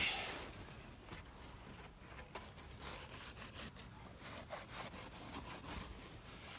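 A hand saw trims a packed snow block while building an igloo in cold weather, with a rough rasping cut that grows louder and more rhythmic after the first couple of seconds, close by and with no voices.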